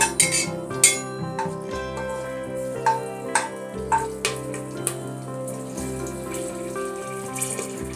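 Green chillies and spices sautéing in a pan for prawn biryani, a steady frying sizzle with intermittent clinks and scrapes of a spoon against the pan, close and continuous, no talk.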